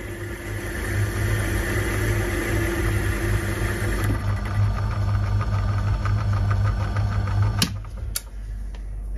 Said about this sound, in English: I'm parting off quite far away from the chuck at speed, and it's going well, there's not even any chatter.